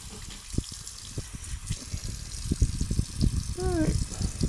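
Faucets and spigots run water from an off-grid solar-powered well system during shocking with chlorine, a steady broad wash of flowing water with intermittent knocks and handling noises, moderately close.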